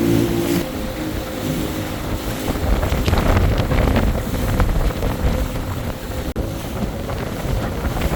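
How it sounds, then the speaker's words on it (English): Strong wind buffets the microphone in a steady, loud roar, with low rumbling gusts throughout and no voices. "Friggin' windy!"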